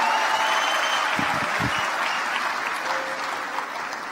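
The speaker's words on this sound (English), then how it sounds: "A warm round of applause." A large audience at the opening ceremony of the YouthConnekt Africa Summit 2024 claps in steady, sustained applause that fills the hall, with a few faint voices beneath it.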